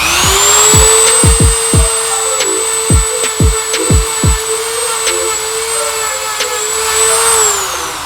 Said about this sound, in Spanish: En ese caso estoy utilizando este tipo de cepillito rotatorio.